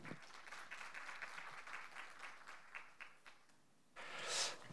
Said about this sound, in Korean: 여러분 시장님을 따뜻한 박수로 환영해 주시기 바랍니다